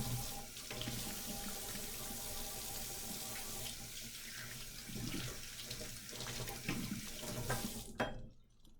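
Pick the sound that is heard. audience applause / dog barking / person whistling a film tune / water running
water running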